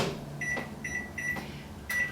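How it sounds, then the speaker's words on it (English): Microwave oven heating garlic in olive oil for a short burst on high, with a steady hum broken by several short button beeps and clicks at close range, no voices. "Into the microwave, 15 seconds on high."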